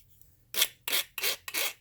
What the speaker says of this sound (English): I can't figure out which way to go on this file that's effective. So I just go both ways.